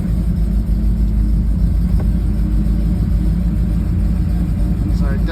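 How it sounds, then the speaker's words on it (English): A classic Pontiac Trans Am idles steadily with an auxiliary electric pusher fan running over the engine, giving a loud, even low rumble and whirring drone that holds for the whole stretch. "this is car running with the fan on over the engine."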